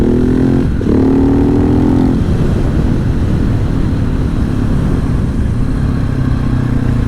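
A 2015 KTM SMC 690R motorcycle with an aftermarket exhaust runs loud and close, a steady throaty engine roar that fills the whole stretch, with no voices.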